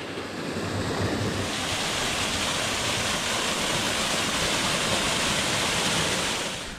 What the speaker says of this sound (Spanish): El arroyo que viene por aquí.